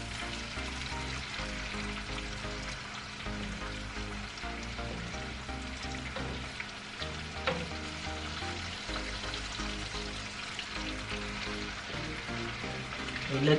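Shrimp and scallops frying in a hot pan, a steady loud sizzle and crackle that fills the whole stretch, with faint clatter near the end.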